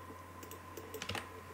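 Keyboard typing on a computer while building an Excel game, a few soft keystrokes scattered over a steady electrical hum, with a denser burst of clicks near the end.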